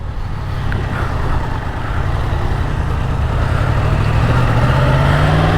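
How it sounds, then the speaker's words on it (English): A 2019 Yamaha MT10 motorcycle engine rumbles steadily on its first ride, a loud, close drone that slowly rises in pitch as the bike pulls away. "first ride on a 2019 MT10"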